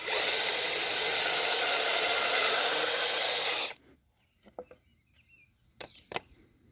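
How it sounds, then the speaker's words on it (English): Power drill boring holes in wood for a Langstroth beehive runs loud and steady for a few seconds, then stops abruptly, leaving faint clicks and handling noises. "That allows me to drill a couple of holes in here, glue them and screw them"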